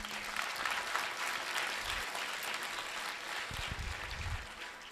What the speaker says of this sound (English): So another round of applause for them as they exit.